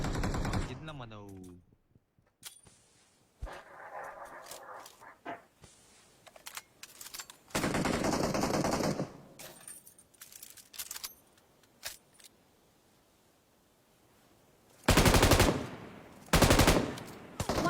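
Gunfire in the mobile battle royale game PUBG Mobile: scattered single shots early on, then loud sustained bursts of automatic fire around the middle and two more heavy bursts near the end, with stretches of quieter game sound between.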